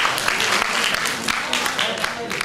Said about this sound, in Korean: 그리고 앞서서 이 프레젠테이션을 같이 만들어준 이종석님에게도 박수 한번 부탁드리겠습니다.